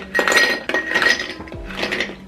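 Ice cubes clink and rattle into a cup for a homemade iced coffee holiday drink, a few bright, close bursts of clattering contact separated by short pauses.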